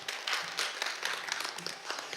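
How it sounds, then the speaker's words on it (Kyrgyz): Audience applause at a Kyrgyz comedy battle final, a short burst of dense clapping that holds at moderate loudness without pause. "Дүркүрөгөн кол чабалар."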